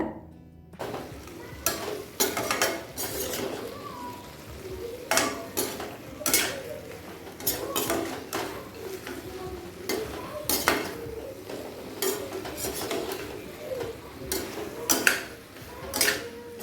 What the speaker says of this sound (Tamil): ஸோ இதில் சேர்த்துட்டு நல்லா மிக்ஸ் பண்ணி விட்டுருங்க